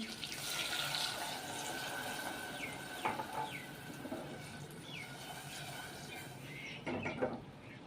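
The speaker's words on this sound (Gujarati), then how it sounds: "હવે આપણે એક ગ્લાસ પાણી એડ કરી દેશું" A glass of water is poured into a pan of mixed vegetables cooking in oil, giving a steady splashing, gurgling pour that runs close and fairly loud for several seconds.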